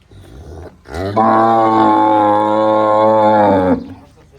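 A dairy cow, a recently calved cow with a young calf, gives one long, loud, steady moo lasting a few seconds at close range, then falls quiet.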